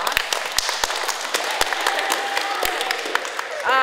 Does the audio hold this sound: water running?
no